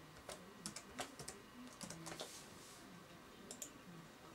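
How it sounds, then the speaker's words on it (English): A computer keyboard is typed on in short quick bursts of clicky keystrokes with brief pauses between them, close but quiet, with no voice over it. "Just type your IP address into the bar"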